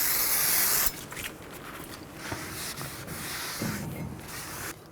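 Brake cleaner sprays onto the front brake parts of a 2007 Chevy Silverado 1500 Classic truck in a loud, close burst of hiss, followed by softer rubbing and wiping sounds with no talking.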